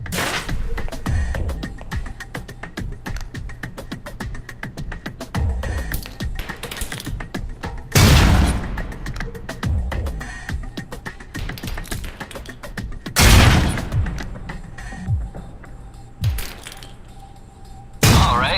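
Concussion grenade rounds bursting in the video game Alpha Protocol, three loud broadband blasts spaced several seconds apart over a busy background of clicks, taps and game noise.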